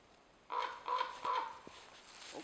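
A raven gives three loud, harsh caws in a steady rhythm, fairly close, then a faint fourth call against quiet outdoor background.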